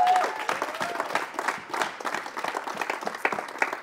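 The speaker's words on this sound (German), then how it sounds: "Oder großen Applaus nochmal bitte." A studio audience at a German quiz show, young people against top politicians, claps in warm, steady applause for a few seconds, fairly close and uninterrupted.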